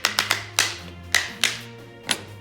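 Rhythm-instrument scrapers clapped together, a handful of sharp wooden knocks in an uneven pattern, close and clear with no talk.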